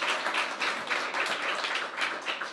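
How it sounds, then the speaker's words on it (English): A crowd applauds steadily for an official at the opening of a women's shelter, a dense, continuous clatter of many hands with no voices over it. "give him a big round of applause"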